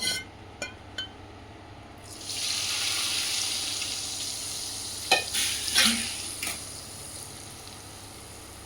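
Fried-onion oil poured and stirred into biryani in a hot pan: a few sharp knocks, then a rising hot hiss and sizzle, with later scraping stirs and clinks close by, without talk.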